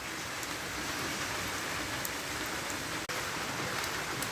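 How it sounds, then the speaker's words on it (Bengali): Heavy rain pours continuously during a days-long downpour, a dense, steady hiss of drops on surfaces with no pauses. "বৃষ্টি খালি টাপড় টুপড় পড়ছেই, দিন-রাত ২৪ ঘন্টা এইরকম খালি বৃষ্টি হচ্ছেই।"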